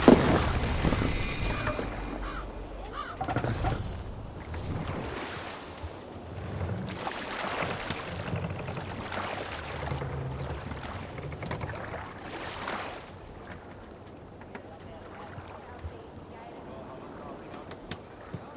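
A Viking longship under sail in Assassin's Creed Valhalla: steady water wash and wind around the hull, with voices speaking over the moving boat.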